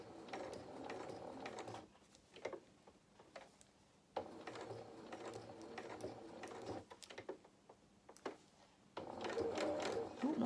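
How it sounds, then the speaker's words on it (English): Domestic sewing machine stitching fabric for a stuffed highland cow head, run by foot pedal, whirring in several bursts of varying length with pauses between, close up; someone talks quietly now and then. "using my foot pedal, going to now sew down the other side"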